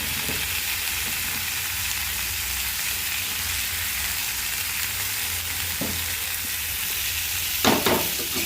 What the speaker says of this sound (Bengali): আলুটা এবারে হালকা আঁচে ভালো করে নেড়ে চেড়ে ভাজতে হবে কিছুক্ষণ ধরে।